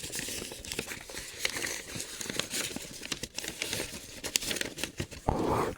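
A paper envelope being handled while a check and letter are put inside, close soft crinkling and rustling in irregular bursts, with a louder rustle at the end.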